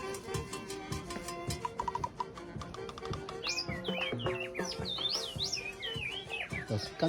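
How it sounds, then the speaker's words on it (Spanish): Small birds chirp and trill repeatedly at Machu Picchu, Peru, with quick rising and falling notes over a busy, clattering background. "Los cánticos de los pajaritos en Machu Picchu."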